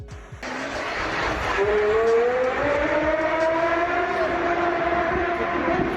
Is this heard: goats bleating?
no